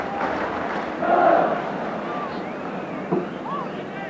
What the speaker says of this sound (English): Crowd shouting there's only one Ardiaz